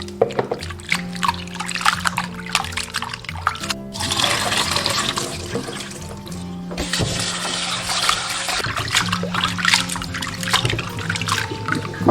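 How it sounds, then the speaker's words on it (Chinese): Chopped bullfrog pieces, already kneaded with cooking wine, are rinsed in clean water. Steady sloshing and splashing of water plays under continuous background music. "然后加入清水清洗干净。"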